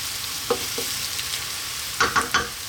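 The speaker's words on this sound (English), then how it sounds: "Just give that a little mix." Chicken seasoned with oregano, salt and pepper stirred in a pan, with a low sizzle beneath a few soft scraping clicks of the utensil, a pair early and a quick cluster of three near the end.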